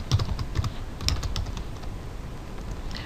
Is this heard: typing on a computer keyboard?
yes